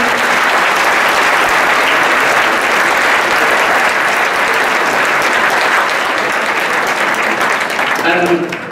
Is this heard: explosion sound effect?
no